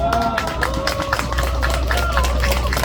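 A crowd claps together outdoors at a rally in front of the Busan District Prosecutors' Office, a steady wash of hand claps sustained for about three seconds amid background noise.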